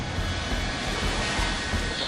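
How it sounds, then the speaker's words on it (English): Avro Vulcan bomber jet engines running up at start, a steady loud broadband roar with deep low rumble that holds without pause throughout, close by on the airfield. "Engines turning, light up."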